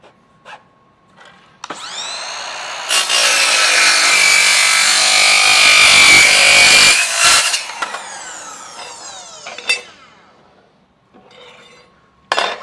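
A Ryobi 18V cordless miter saw fitted with a Diablo Steel Demon blade cuts through angle iron: the motor spins up, then a loud, sustained, harsh metallic grinding screech runs for several seconds before the blade winds down, followed by clatter.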